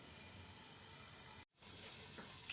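Eggplant fries in a pan with a steady, bright sizzling hiss that cuts out abruptly for a moment midway, then resumes just as strongly.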